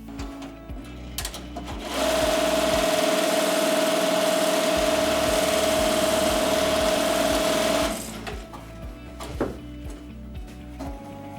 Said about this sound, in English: I'll go ahead and hit the start button and it will start stitching that placement stitch of where to place my applique design